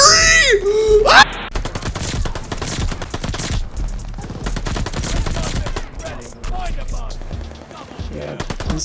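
MP40 submachine gun fire in the video game Call of Duty Vanguard: loud, rapid automatic bursts in quick succession, opening with a short sweeping game effect, with brief pauses between strings of shots.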